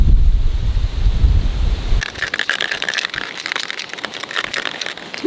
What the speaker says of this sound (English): because it's a little windy right now